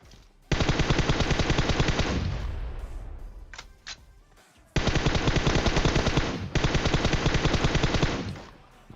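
Automatic rifle fire sprays in PUBG Mobile gameplay: two long, loud, rapid bursts close by, with a short pause and a few sharp single cracks between them.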